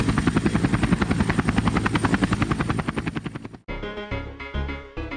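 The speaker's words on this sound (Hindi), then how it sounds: "हेलीकॉप्टर बॉर्डर की ओर जाने लगा।" A cartoon helicopter heading toward a border, its rotor beating in fast regular chops for several seconds before the sound cuts abruptly to a different tone.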